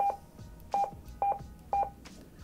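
Short electronic keypad beeps from an AnyTone 868/878 digital radio sound in quick pairs while changing channel, about four double beeps spaced evenly, quiet with faint background noise.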